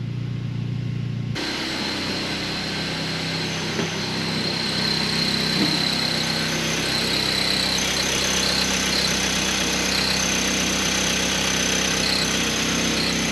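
A Mazda 3 engine buzzes from a bad motor mount, a steady buzz with a high-pitched whine droning on continuously at an even level, with no voices.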